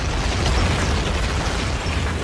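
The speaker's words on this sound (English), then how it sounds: "Now comes bombardment by artillery" D-Day artillery bombardment in Normandy, a dense, continuous roar of heavy explosions and rumbling booms, loud and overlapping without pause.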